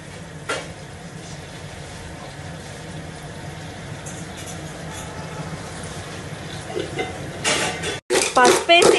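Crab curry being mixed with turmeric in a pot, quiet at first, then a cluster of louder clattering and scraping near the end, with a background hum throughout.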